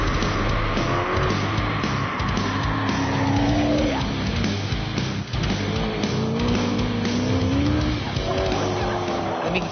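A Mickey Thompson off-road truck with a 6-litre Chevy engine of about 500 horsepower revs hard and rises and falls in pitch while tyres squeal and skid through turns, loud and close.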